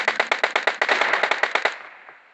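Rapid Uzi gunfire from a video game rattles out in a close, loud burst of about a dozen evenly spaced shots with no pause, then fades into a brief trailing echo.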